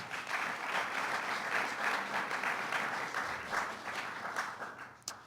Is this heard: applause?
yes